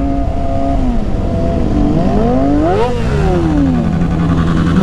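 Kawasaki Ninja ZX25R with an SC Project exhaust revving hard nearby, its pitch rising to a sharp peak near the three-second mark, then falling and holding at a steady high idle.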